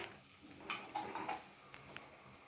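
Boiled green field beans stirred lightly in a pan, a few close metallic clinks and scrapes of a spoon against the pan in a quick cluster, then softer taps over a faint background hiss.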